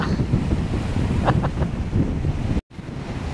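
Wind and Mediterranean sea waves on the Turkish shore near Seleucia, a steady loud rush with heavy microphone wind buffeting and a brief dropout near the end.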